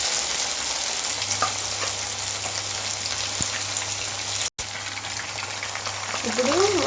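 Chicken pieces frying in hot oil for chicken noodles give a steady, dense sizzle from start to finish, dropping out for an instant midway before resuming, with a faint voice briefly audible near the end.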